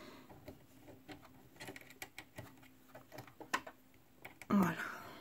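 A screw being tightened on the needle holder of a Toyota sewing machine walking foot: a string of small metallic ticks and clicks, close and quiet, ending in a louder rubbing scrape.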